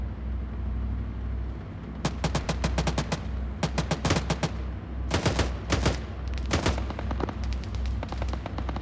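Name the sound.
gunfire from an Arma 3 amphibious assault, video game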